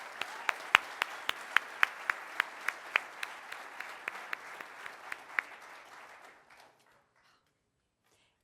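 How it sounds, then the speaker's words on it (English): A Rotary Club audience in Tulsa gives a round of applause: crisp, fairly sparse rhythmic claps at moderate distance that thin out and fade to silence after about six seconds. "Let's give him another round of applause"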